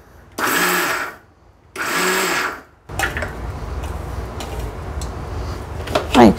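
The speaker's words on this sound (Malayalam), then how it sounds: "ഞാൻ അതുകൊണ്ട് മിക്സിയിൽ 1 അടി അടിക്കാവുള്ളൂ, ഒരുപാടാകരുത്, അത് പൊടിക്കുക എന്നുള്ളതാണ്." A mixer grinder pulsed in two short whirring bursts while grinding chammanthi podi, each burst about a second long with a rising and falling motor whine, followed by rattling and clattering of the jar and lid close by.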